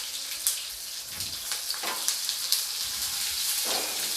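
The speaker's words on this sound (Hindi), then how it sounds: "अब बचे हुए तेल के अंदर मैं डाल दूँगी इस प्याज को।" Chopped onion dropped into leftover hot cooking oil, bhindi do pyaza being made, giving a steady close sizzle with faint crackles and a few soft clinks throughout.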